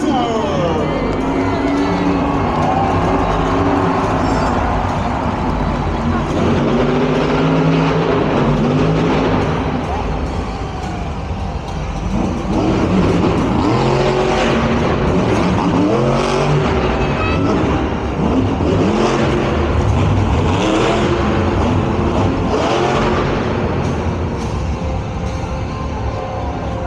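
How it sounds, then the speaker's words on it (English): Black Panther Marvel monster truck at a Monster Jam show in London, its engine revving repeatedly in rising and falling surges over a loud, cheering arena crowd. "All new Black Panther Marvel Monster Jam Truck"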